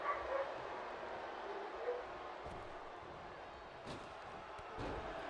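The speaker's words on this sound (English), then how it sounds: "Dogs are going nuts because they're playing around." Dogs barking and yipping excitedly as they play together indoors, short bursts rising over a steady background hum, with no talk.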